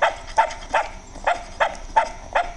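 A dog in an animated pets comedy barks repeatedly in a steady rhythm, about seven sharp, close, fairly loud barks over a few seconds with no talking.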